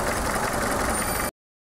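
A Volvo 240 engine idles steadily after a carburetor adjustment, a dense even rumble heard close for just over a second before cutting off abruptly into silence.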